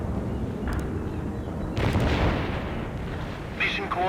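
Heavy artillery strike in the World in Conflict strategy game: deep rumbling booms and bursts rolling through, fairly loud, with voices talking over the battle noise.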